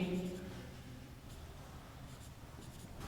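Pen scratches faintly on paper while a number is written out during a Class 9 maths problem, soft close strokes under quiet room noise.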